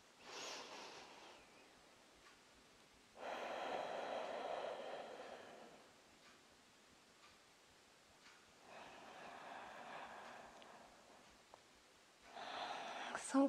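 Deep breathing during a yoga session, heard as a few slow, soft inhales and exhales in long swells, each several seconds long, with quiet pauses between them.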